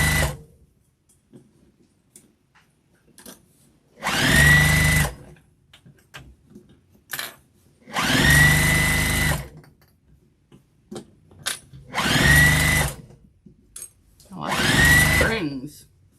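A sewing machine stitches a seam on a flannel scarf in four separate bursts of a few seconds each, loud and close, with near silence and small handling clicks between runs.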